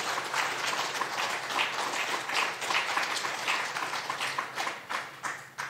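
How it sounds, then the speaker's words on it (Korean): A church congregation claps together during a Sunday worship service, producing a sustained wash of applause at moderate volume with no voices over it, tapering slightly near the end. "날아가거나 말거나 우리 박수 한번 칩시다."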